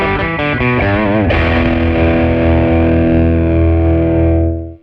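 An electric guitar with a humbucker pickup played through a Roland Blues Cube Artist amp, distorted chords and bends that settle into a loud sustained power chord ringing out before being cut off.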